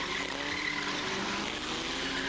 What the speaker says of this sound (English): Number 1 going through there is Neil Ridderford in his Van Diemen RF88, entered by MSP Racing.